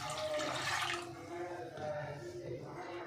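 Water pours from a jug onto washed toor dal in a pressure cooker, a steady gushing splash up close that fades into softer sloshing, with a voice faintly present.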